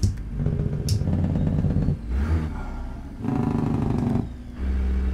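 A truck engine brake in American Truck Simulator, with a deep, loud rumbling bark that rises and falls in several surges over a droning engine. No one speaks.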